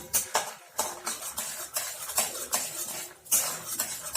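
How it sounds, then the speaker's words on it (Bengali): Raw peanuts fry in hot oil in a pan for a leftover chapati upma, with repeated metal utensil scrapes and clinks as they are stirred in an irregular rhythm, close and moderately loud. "তেলটাও আমার গরম হয়ে গেছে, তাতে আমি কিছু চিনেবাদাম ভেজে নেব।"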